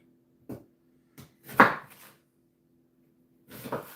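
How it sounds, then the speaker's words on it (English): A knife chops onions on a cutting board in a home kitchen: a few separate, crisp strikes with short pauses between them, close and otherwise quiet. "I'm not great at chopping onions."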